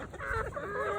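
Free-ranging homestead chickens cluck and call in short, rising and falling bursts close by, clear and without talk.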